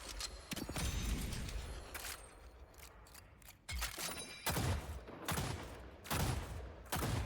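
Slow, spaced gunfire from a weapon in the video game Deadlock: loud, punchy reports land roughly every second, each with a short decaying tail, over a steady game background hum.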